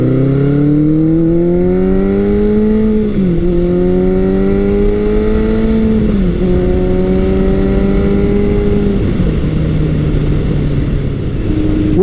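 A 1982 Suzuki GS1100G motorcycle with an aftermarket Delkevic exhaust revs close by, its deep, loud four-cylinder note rising and dropping through several throttle blips over a steady rumble, with no talk.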